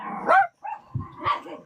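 Dogs bark in several sharp, close, fairly loud yaps separated by brief pauses, with some whimpering yips mixed in.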